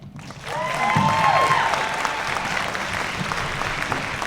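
An audience at a high school spring instrumental band concert applauds warmly for a graduating senior, a steady full-room clapping that rises quickly and holds, with a brief tonal note sounding near the start.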